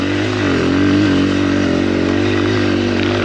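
Honda XR100R dirt bike engine running hard on a steep snowy hill, a loud, close, sustained buzzing drone held at steady high revs with no talk over it.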